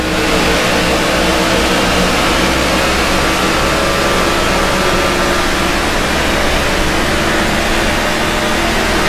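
A NASCAR race car engine roars steadily at high revs in a Kentucky race in NASCAR '15, a loud, continuous drone with a dense engine hum and no pauses.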